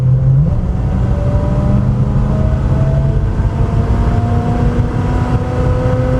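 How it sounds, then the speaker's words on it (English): A 1966 Plymouth Fury II with a 318 V8 rumbles loud and close at partial throttle, a steady low drone with revs slowly rising as the car pulls along. "I'm going to slow it down to about 40, and I'm going to hit the gas one more time"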